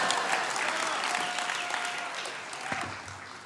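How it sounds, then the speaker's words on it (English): Steady applause from a banquet audience at a Tower Award ceremony, moderately loud and sustained, with a faint voice briefly audible beneath it. "A little applause."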